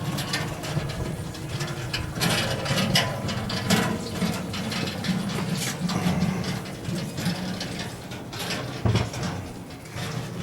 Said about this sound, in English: So we take the pins out, and now I can pull out the gear assemblies.